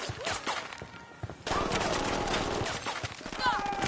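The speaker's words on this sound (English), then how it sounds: "I'm shooting these fuckers." Rapid bursts of gunfire crackle through a console shooter firefight, dense and loud with irregular volleys, while voices talk over the action.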